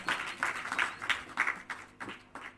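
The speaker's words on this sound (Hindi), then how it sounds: "एक बार जोरदार तालियों से उनका स्वागत करते हैं" Applause greets poet Rishiraj Jani at a national literary seminar, heard as modest, fairly distant rounds of clapping that swell and fade in a loose, irregular rhythm, with no voices over it.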